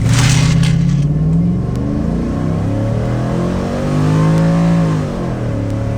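A cammed 5.3 V8 vehicle launches hard from a stop with a loud, deep engine roar that climbs through the revs, dips briefly at a shift, then surges again, heard from close by.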